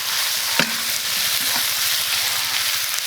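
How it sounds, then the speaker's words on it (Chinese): Sliced pig ears stir-fried in a hot wok, with a steady close sizzle of frying throughout and a brief sharp clank of a spatula against the pan early on. "可以下入这个切好的这个猪耳朵，来炒一下"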